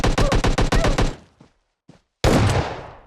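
PUBG Mobile gunfire: a loud rapid burst of about ten shots, a lull with a couple of faint thuds, then another loud blast that trails off.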